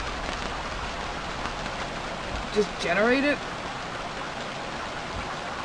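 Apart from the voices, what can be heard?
rain in the video game Stranded Deep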